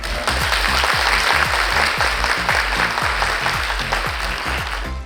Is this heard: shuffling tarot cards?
no